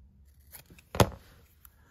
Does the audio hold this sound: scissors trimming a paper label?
yes